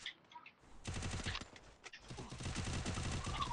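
Rapid bursts of gunfire in the mobile battle-royale game Free Fire, loud and near, with dense repeated shots running through most of the clip and a brief gap before the firing resumes.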